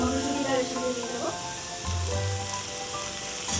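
Grated beetroot and carrot sizzling in a hot pan with panch phoron, ginger and chopped green chilli, a steady bright frying hiss with faint tonal music underneath.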